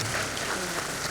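An audience applauds at an installation ceremony for the PPS Putra Betawi executive board, a dense, steady wash of clapping that holds at an even level for about a second with no gaps.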